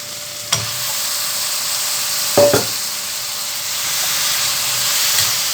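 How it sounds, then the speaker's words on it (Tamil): Mutton sautéing with ginger, garlic and spices, a loud steady hissing sizzle with a couple of sharp stirring knocks and scrapes against the pan, close up and without speech. "நல்லா வதக்கி கொடுக்கலாம் கொஞ்ச நேரம் வதங்கி வரட்டும்"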